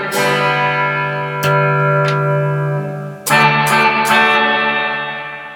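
Sustained distorted electric guitar chords ring out through a 1995 Peavey Valverb three-tube reverb processor, with a wash of reverb, a few sharp strums cutting in near the end before the tone decays.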